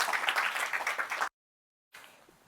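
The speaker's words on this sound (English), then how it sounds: "Round of applause." A workshop audience gives a brief burst of applause with dense clapping that cuts off abruptly, followed by faint room noise.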